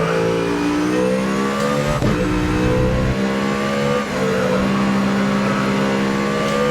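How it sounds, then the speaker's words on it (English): Race car V8 engine of an Audi in the Grid Autosport racing game, droning loudly and steadily at high revs throughout with shifting pitch, briefly dipping around gear changes. "the sound of this V8 Audi is so amazing"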